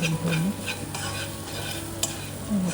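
Onion, ginger and garlic sauté in a pan for a Kerala mango curry with coconut milk, a steady close sizzle with scraping stirs, and a low hum underneath.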